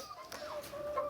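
A chicken clucks repeatedly at close range on a farm, in short, bright, uneven calls that rise and fall, with faint voices in the background.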